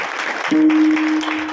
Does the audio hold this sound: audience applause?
yes